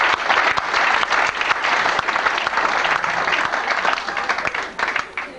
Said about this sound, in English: Why don't you give yourselves some applause?